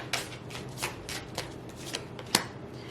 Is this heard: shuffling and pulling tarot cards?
yes